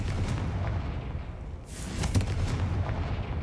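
Blasts from the Confringo fire spell in a wizarding video game: several sharp explosive bursts with booming tails over a rumbling background, with one brighter crackling burst near the middle, and no talking.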